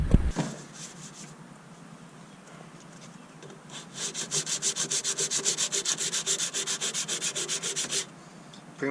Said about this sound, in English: Now after you do 80 grit, you do 180.